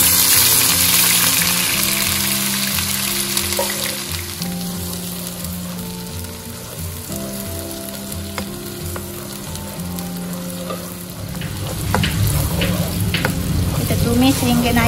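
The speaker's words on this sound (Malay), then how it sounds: "minyak dah panas, sekarang kita masukkan bahan-bahan yang kita kisar tadi." Loud, steady sizzling of a blended spice paste for vegetable lodeh frying in hot oil, with occasional stirring scrapes and a brief surge of crackle near the end.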